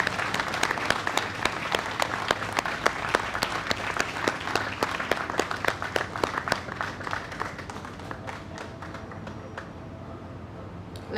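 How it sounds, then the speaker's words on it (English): Audience applause at a Guyana vaccination launch ceremony honouring long-serving nurses, a steady round of clapping from a sizeable crowd that thins toward the end. "Let the applause continue."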